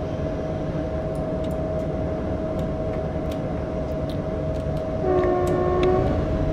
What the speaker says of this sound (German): Und dann kommt ein Zug uns entgegen.